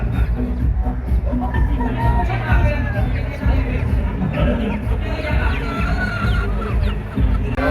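Pure white Kelso gamefowl roosters cluck at a gamefarm, steady overlapping clucks over a dense, busy background of murmuring voices and other fowl.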